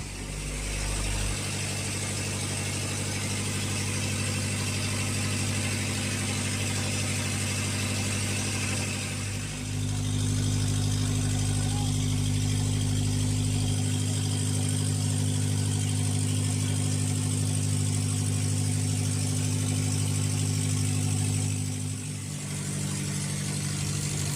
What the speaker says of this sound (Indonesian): Saat ini Juragan Pak Daus menyalakan mesin generator yang terhubung dengan gearbox.